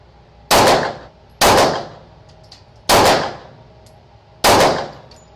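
Four loud, sharp 9mm shots from a Smith & Wesson M&P 9 Shield EZ pistol at a range, fired singly at uneven intervals about a second apart, each followed by a brief ringing decay.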